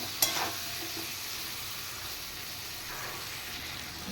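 Slit green chilies drop into hot oil with cumin in a pan for a thin Bengali rohu fish curry, giving a quick crackling burst followed by a steady, close sizzle.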